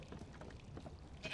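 Sheep in a roleplay video game give a couple of short bleats near the end, over a steady low background hum, with no talking.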